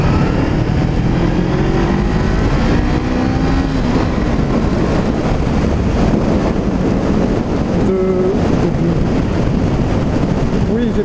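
Honda CB500R motorcycle accelerating to high speed on an open road, engine whine rising through the gears under heavy, constant wind rush at the helmet microphone.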